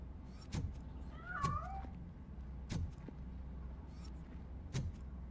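A cat in the video game RoboCop: Rogue City gives one short, faint meow amid quiet ambience, with a few sharp thuds and clicks around it.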